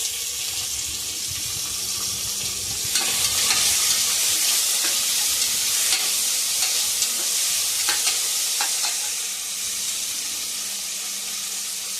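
Chopped onion and tomato sizzle in a hot kadai for a home-style ridge gourd dish. A close, steady fry hiss runs throughout, with scraping stirs of a spoon against the pan through the middle.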